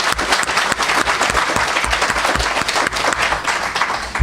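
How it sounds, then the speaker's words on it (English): Audience applause at a commemoration ceremony for Empress Farah Pahlavi: a dense, sustained burst of many hands clapping, loud and even throughout with no speech over it. "let's give him a round of applause."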